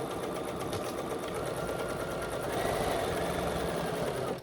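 Sewing machine stitching a quarter-inch seam on a handmade holiday gift, a steady continuous mechanical whir and rapid needle chatter that runs loud and close throughout, growing slightly stronger midway.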